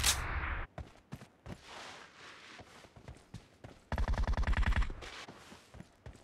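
Rapid automatic gunfire in the PUBG Mobile video game, with sharp single shots and a dense close burst of rounds partway through, among footstep-like clatter and no speech.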